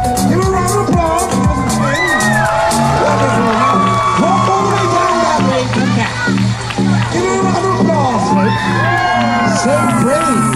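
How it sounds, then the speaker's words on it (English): Spectators at a Kings amusement park Halloween haunt show clap, cheer and whoop together, mixed with children's shouts and voices, a loud, lively crowd sound that runs continuously. "Give a round of applause."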